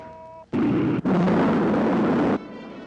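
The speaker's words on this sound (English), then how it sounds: "Rocket 1, second stage. Fire." A rocket's second stage fires in a 1958 science fiction film, a sudden loud roaring blast that cuts in, briefly dips, then holds as a dense rumbling rush for nearly two seconds before stopping abruptly.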